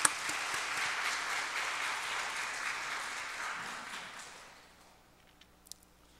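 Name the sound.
congregation applause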